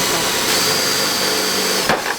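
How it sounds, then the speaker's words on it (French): A power drill pre-drilling screw holes during assembly of a bioclimatic pergola kit, a loud steady whirring drone held for about two seconds, then a brief knock as it stops. "on prend la mèche qui est fournie dans le carton et on va venir prépercer les trous"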